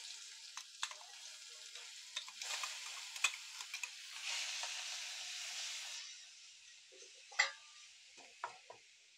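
A paste of ginger, garlic, coriander and chili hits a hot frying pan, giving a faint, airy sizzle and hiss with scattered small ticks and pops and one sharper spatter, quiet and without speech.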